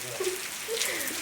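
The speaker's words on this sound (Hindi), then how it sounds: "देखो बारिश बहुत तेज लगी हुई है।" Heavy rain falls in a village, a dense steady hiss of drops on surfaces, with faint tonal sounds drifting through in the background.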